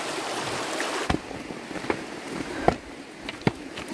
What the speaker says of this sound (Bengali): ওখান দিয়ে দেখালাম স স করে জল বয়ে আসছে